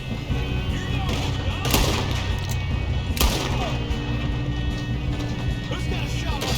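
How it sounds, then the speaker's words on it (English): Gunfire in Red Dead Redemption 2 during a train hijacking cracks out a few times, with sharp shots near 1.7 and 3.2 seconds over steady rumbling game noise while people talk. "Why don't you shoot those bastards?"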